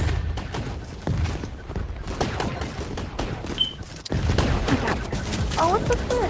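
Grenades bursting amid a dense, crackling fusillade of gunfire in the VR shooter Gun Raiders VR, with scattered thuds and booms and a voice speaking intermittently over the battle.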